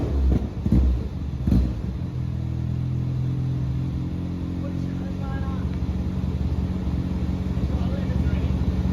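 A Renault Clio Cup race car's engine holds a steady, droning run on a dyno after a few brief knocks and bursts at the start, loud and close.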